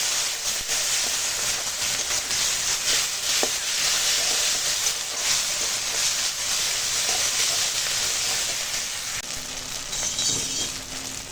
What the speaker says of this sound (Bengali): এখন মশলার সঙ্গে ভালো করে কষিয়ে নেব